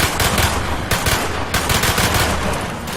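Loud, continuous automatic gunfire from Call of Duty: Black Ops, a dense, rapid stream of shots with bursts overlapping through the whole stretch, close and harsh with no talking.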